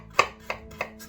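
A knife roughly chopping ginger on a cutting board, three crisp, evenly spaced cuts heard close up in a quiet kitchen.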